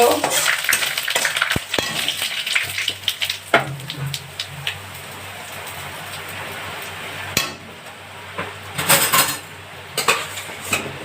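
Cumin seeds and radhuni splutter in hot oil in a pan for a taro and catla fish dish. A soft sizzle runs beneath clattering metal clinks as a utensil stirs and knocks against the pan.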